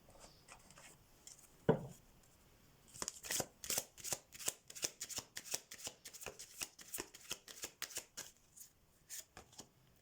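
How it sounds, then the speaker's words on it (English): Oracle cards are shuffled by hand, starting with a single soft knock, then a long string of close, crisp riffling flicks in uneven bursts, quiet overall and without speech. "I'm going to get some oracle cards for you here."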